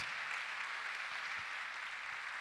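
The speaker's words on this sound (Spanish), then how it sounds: "Demos un aplauso fuerte al Señor por la vida de ellos." Steady, dense applause from a large church congregation during a Sunday service, a continuous wash of clapping with no voices standing out.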